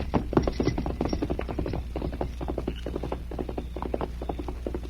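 Horse hoofbeats in a radio drama, a white horse ridden off into the night, rendered as a quick clattering rhythm of clip-clop strikes, close and steady over a low hum.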